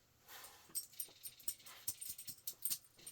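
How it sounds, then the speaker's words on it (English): A small dog whimpers and yips in a quick string of soft, high cries, with light jangling alongside, close and moderately loud. "Our little dog just came in."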